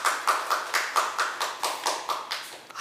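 Rhythmic, evenly spaced claps, about ten over a few seconds, moderately loud and close, with no voices.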